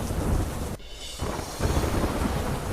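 Heavy downpour in the Deodar area of Banaskantha pours down with a steady roar, broken by a brief lull and deep thunder rumbling underneath, with no voices.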